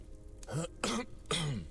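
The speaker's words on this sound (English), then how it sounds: "That cough seems to be returning." Three harsh, raspy coughs in a row, close and fairly loud, each a short burst separated by brief pauses.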